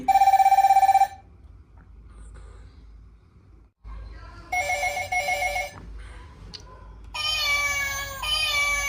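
A cat-meow ringtone plays from a children's learning pad: short electronic meowing tones in three bursts separated by pauses, with a faint low hum between them.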